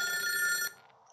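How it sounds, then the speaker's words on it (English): A ringing telephone in the horror video game Lurk in the Dark gives one bright electronic trill that cuts off abruptly partway through, leaving faint background hum behind it. "Pick up the phone."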